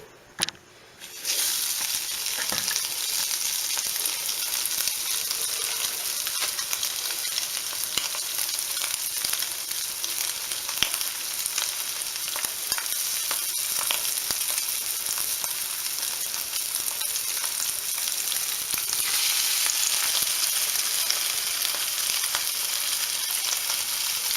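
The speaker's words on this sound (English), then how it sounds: "And then toss them in the oil." Lake Erie perch fillets coated in Shore Lunch Cajun-style breading drop into hot oil with a brief splash, then sizzle and crackle steadily and loudly at close range for the rest of the stretch.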